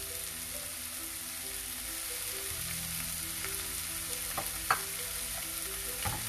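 Fenugreek leaves (methi) fry in a pan for a mushroom malai curry, giving a steady low sizzle throughout, with a few brief scraping stirs and one sharper clink near the end.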